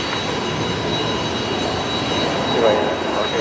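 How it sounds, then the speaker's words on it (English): An Airbus A321neo jet touching down on runway 01 right at Brisbane Airport, a steady broad engine roar that swells slightly near the end, heard from a distance. "A321neo just about to touch down here"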